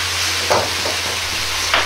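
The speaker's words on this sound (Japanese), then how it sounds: "豆腐が崩れないようにお玉を押し出して混ぜます。" A ladle pushes through mapo tofu in a hot pan in a home kitchen, making soft scraping stirs twice over a steady sizzle, close and moderately loud with no voices.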